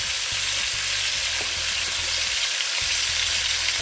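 Strips of sliced sheep tail hitting a hot pot and starting to fry, a steady loud sizzle with stirring clatter throughout, no voices.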